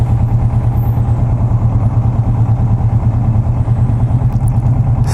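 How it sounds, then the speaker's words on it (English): A Kawasaki Vulcan S motorcycle ridden on open road with quick shifts, heard as a loud, steady engine drone with wind rumble throughout and no clear break between gears. "So that is quick shifting."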